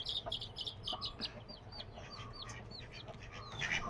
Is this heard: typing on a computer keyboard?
no